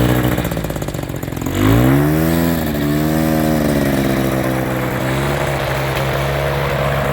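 Small paramotor engine running steadily while the unit is wheeled across a field, with a brief rev around two seconds that settles into a continuous mid-pitched drone, close and loud throughout.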